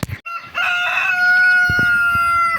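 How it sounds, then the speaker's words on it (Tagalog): A rooster crows loudly and close by in a long call among farm chickens, with a few short clucks and thumps around it. "Pakain muna tayo natin mga manok"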